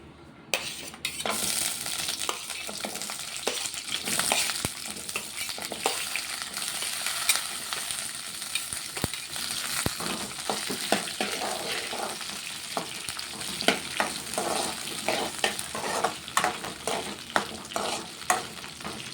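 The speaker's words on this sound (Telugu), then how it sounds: "పచ్చిమిర్చి ఫ్రై అవుతున్నాయి" Green chillies frying in a quarter measure of oil, stirred steadily, give a continuous close sizzle with frequent scraping and clinking strokes of a spoon against the pan for nearly twenty seconds, with no talk.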